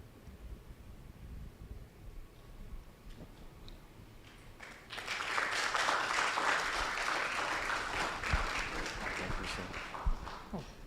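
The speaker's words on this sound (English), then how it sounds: "let's give them a round of applause" Audience applause at the ASG Actuaries Connect Conference 2025, starting suddenly after a quiet, murmuring room and swelling into sustained, dense clapping from many people that continues to the end.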